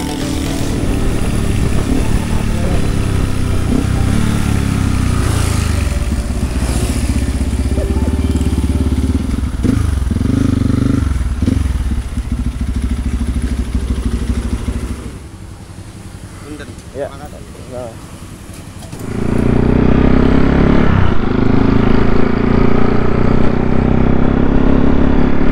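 A WR255 motorcycle drones steadily while riding in traffic on a touring trip in West Java, loud and close with wind rumble. It dips quieter for a few seconds, then swells back, while the rider talks over it.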